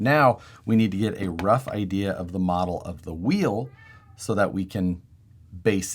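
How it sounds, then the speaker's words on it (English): A house cat meows repeatedly, loud and close, its calls mixed in with someone talking steadily over them. "Sorry for the noisy cat."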